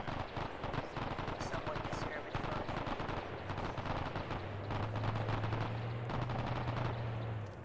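Sustained machine gun fire in the military game Arma 3, a dense rattling barrage of continuous bursts with voices faintly talking under the gunfire.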